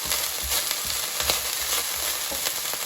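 Oil sizzles and crackles steadily in a frying pan for a shrimp and broccoli stir fry, with soft stirring thumps underneath and no voices.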